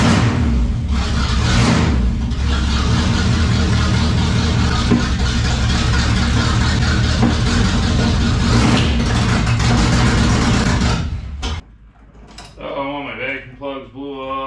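An old dirt track race car engine runs loud and rough, a dense sustained roar for most of the stretch before cutting off abruptly, after which a person speaks over quieter background.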